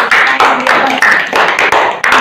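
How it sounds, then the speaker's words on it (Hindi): A group of people clap together for a child in a brain activation class, a loud, dense burst of applause running through the whole clip with a few uneven swells. "ताली बजा दो बच्चे के लिए,"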